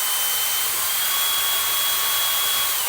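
An electric drill whirs steadily and loudly while it stirs a Platinum Merlot wine kit in its fermenter to degas it, a continuous broadband motor-and-liquid hiss with a faint high whine and no talking.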